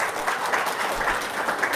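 Audience applause in a crowded hall during an Indonesian motivational talk, a steady dense wash of clapping lasting under two seconds, fairly loud and uniform with no voices over it.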